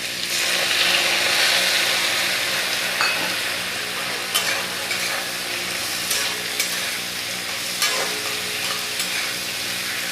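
Big fish head and papaya sizzling and frying in a pan with kala khar added, a steady close crackle with scraping stirring strokes throughout, no talk.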